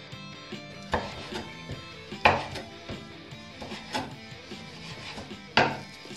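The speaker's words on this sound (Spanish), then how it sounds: "Esta la vamos a picar pedacitos chiquitos" A knife chops pork fat into small pieces for chicharrones on a cutting board, landing as sharp, irregular thuds, some louder than others, close up, with no talking.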